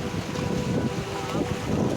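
Wind and waves wash steadily at a waterside beside a Shiva temple near Bhavnagar, a broad continuous rumble with gusty microphone buffeting and no clear pauses.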